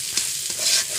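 A turmeric-spiced masala paste fries in a pan for chicken bhuna khichuri, with a soft continuous sizzle and a few scraping stirs of a spoon, close and steady, without talk.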